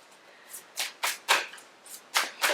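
Oracle cards handled and shuffled by hand, a series of soft papery riffles and flicks in uneven bursts, close and fairly quiet, with no talking.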